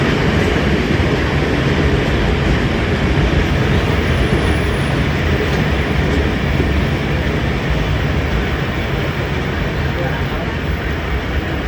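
The Badar Express rumbles loudly past at Farooqabad while crossing the Karakoram Express, heard as a close, continuous roar of wheels and carriages that stays constant throughout.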